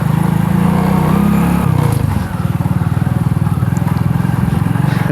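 A friend's motorcycle engine runs close by at a steady idle with a rapid, even putter, and a brief change in tone partway through.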